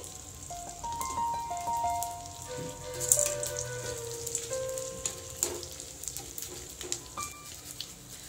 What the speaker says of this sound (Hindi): हम सारा गोंद फ्राई कर लेंगे